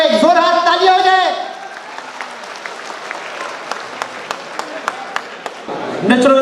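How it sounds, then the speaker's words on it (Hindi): An audience at a mushaira, a poetry gathering, claps in scattered, sharp bursts, with a voice speaking at the start and again at the end. "एक जोरदार तालियां हो जाए"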